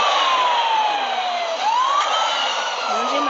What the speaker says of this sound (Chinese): 我们先把警笛关掉。